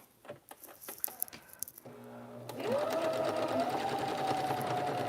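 A sewing machine back-stitches at the corners of a kitchen curtain, a few taps and clicks giving way to a steady close motor whir that rises slightly in pitch and holds.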